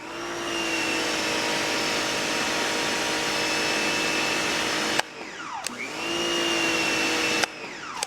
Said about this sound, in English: I overall am more concerned about how the motor sounds. So let's start over here with the AVA Go.